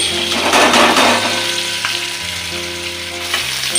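Potatoes dropped into hot white oil in a kadai hiss in a loud, bubbling sizzle that holds steady close up, with faint stirring.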